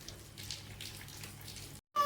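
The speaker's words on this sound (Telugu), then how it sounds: "చూడండి వర్షం ఎలా పడుతుందో" Rain falls in a steady, even hiss that holds at a moderate level, then cuts off abruptly for a moment before returning.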